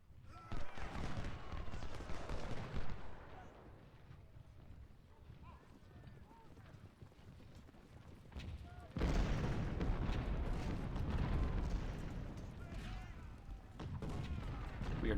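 Artillery and rifle fire crackle through a Civil War video game battle at Malvern Hill, a steady dense roar of distant shots and booms that swells louder partway through, with hoofbeat-like clatter mixed in.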